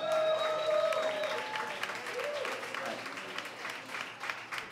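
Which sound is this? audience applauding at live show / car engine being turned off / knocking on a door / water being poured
audience applauding at live show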